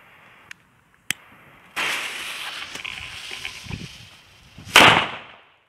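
Sharp firecracker cracks pop twice, followed by a fizzing, crackling burst and a final loud bang with a lingering hiss, heard outdoors without talk; Roter Korsar firecrackers, 2018 batch.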